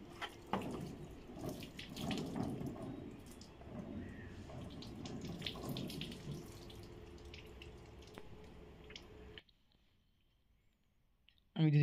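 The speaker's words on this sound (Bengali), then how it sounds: "তো আমি এখানে জলটা দিয়ে নিচ্ছি" Water runs from a tap onto a screen printing screen for plastic carry bags, a continuous splashing rush with scattered drips and clicks that cuts off near the end.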